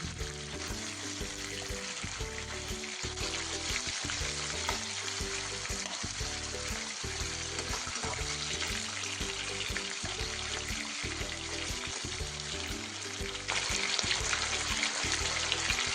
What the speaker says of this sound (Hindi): कांती को बनाने के लिए हम चिकन को अच्छे से फ्राई करेंगे